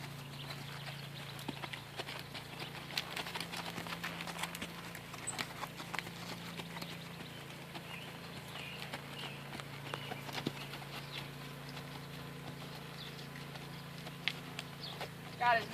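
A young horse in training walks a circle, its hooves giving faint, steady clip-clop beats beneath a rider's quiet talk and low outdoor rumble.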